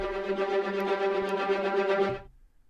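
Rapid repeated sampled notes from ProjectSam's Pandora sound steadily for about two seconds, then stop abruptly with no reverb tail, leaving near silence.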